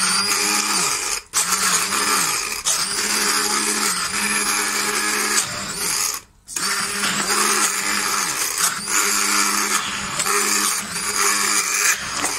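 An electric blender whirs through cheese in a kitchen, loud and motor-driven, running in several bursts with brief pauses and pitch shifts as it churns, no talking over it.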